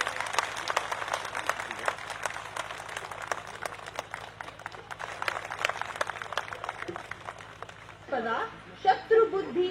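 Audience clapping at a village gathering in Gurha Slathia, Samba, Jammu, during a turban-tying ceremony, with dense sustained applause through most of the stretch before it thins into voices near the end.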